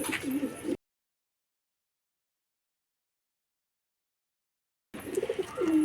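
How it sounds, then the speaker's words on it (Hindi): Bhopal pigeons cooing at a bird market, soft burbling calls close by, cut off by a long silent gap before the cooing resumes. "हमारे भोपाल के बाजरे कबूतर"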